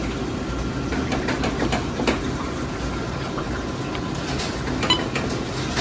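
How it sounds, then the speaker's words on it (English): Frymaster commercial fryer with an intermittent heat fault, its filter pump running steadily to return oil to the vat, a loud continuous mechanical hum and rumble with faint clicks, no speech. "We're pumping the oil back up again"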